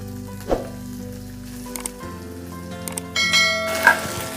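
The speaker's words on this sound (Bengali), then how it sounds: "এবারে দিয়ে দিতে হবে পেঁয়াজ কুচি" Chopped onions sizzle steadily in hot oil in a pan, a loud continuous crackle with a couple of sharp clinks and a brief rising hiss near the end; no one speaks.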